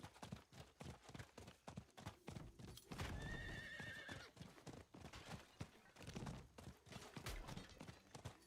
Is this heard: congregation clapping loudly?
no